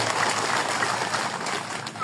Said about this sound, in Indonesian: Kita berikan tepuk tangan Bapak Ibu dan Saudara.